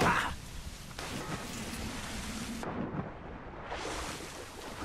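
Rain pours steadily, with deep rumbling thunder rolling through a stormy sea soundscape in the video game Assassin's Creed Rogue that swells and shifts over a few seconds.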